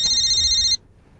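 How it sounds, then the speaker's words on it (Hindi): A mobile phone ringtone sounds loudly for under a second as a single bright electronic tone burst, then cuts off abruptly into near silence. "ओ, एक तो ना ये फोन भी"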